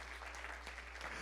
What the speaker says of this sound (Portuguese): Querem aplaudir o Senhor Jesus